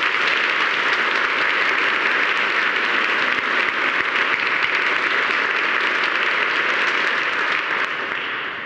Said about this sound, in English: Can we have another round of applause for them?